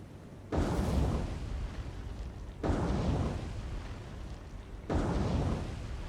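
Torpedoes strike a ship in the naval game War on the Sea, producing three heavy, rumbling explosions spaced a couple of seconds apart, each booming loudly before fading into a long roar.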